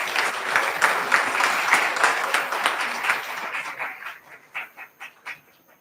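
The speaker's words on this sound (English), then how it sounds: "May I ask the audience for another round of applause, please?" Convocation audience at a business school graduation gives a full round of applause after a speech, dense and steady at first, then thinning into scattered individual claps that fade out.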